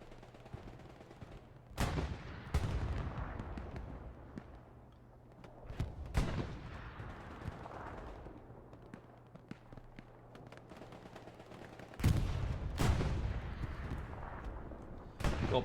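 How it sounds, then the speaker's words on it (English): Tank cannon blasts and gunfire in the World War II shooter Hell Let Loose, several heavy booming shots spaced seconds apart with rumbling tails and scattered rifle pops in between, moderately loud. "Got plenty of tank fire."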